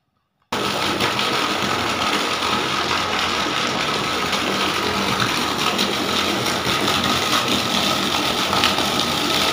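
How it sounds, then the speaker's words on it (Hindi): Water falling steadily into a well in Saudi Arabia, a continuous loud splashing rush that starts abruptly and carries on evenly without pause, with no talk over it. "पानी गिर रहा है उसकी आवाज़ भी आ रहा है"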